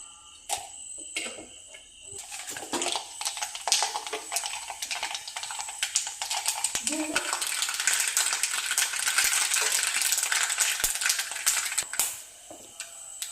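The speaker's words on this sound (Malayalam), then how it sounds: "ചൂടായി വന്ന വെളിച്ചെണ്ണയ്ക്ക് കടുകിടുക" Mustard seeds crackle and pop in hot coconut oil in a kadai while making a nutmeg pickle, a dense, steady spitting sizzle with sharp sputters that builds after a few seconds and runs on loudly before easing near the end.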